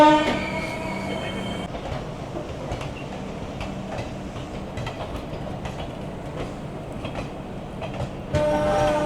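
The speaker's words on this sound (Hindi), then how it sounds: "आप देख सकते हैं पैरेलली डिपार्टिंग DDU, और ये वैप 4 के साथ चलती है।" A DDU-bound passenger train hauled by a WAP-4 electric locomotive departs on a parallel track, heard from aboard another moving train as a steady loud rumble with clickety-clack wheel beats and occasional squeal, continuous throughout.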